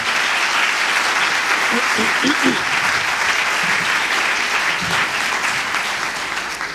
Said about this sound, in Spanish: te bienvenimos con un fuerte aplauso